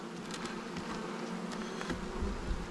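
Honey bees from an open hive hum in a faint, continuous drone, with a soft busy texture and no voices.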